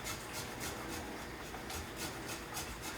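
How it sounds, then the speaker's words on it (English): A lemon is zested on a grater, producing a rhythmic rasping scrape in regular repeated strokes, steady and fairly close, with no speech over it. "You just want to grate it on a grater until the skin kind of peels off."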